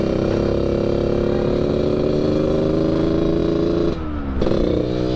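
A 2004 Yamaha RX King motorcycle with an underbelly exhaust revs steadily and loudly up close, holding a rough, throaty drone before dipping briefly near the end and picking back up.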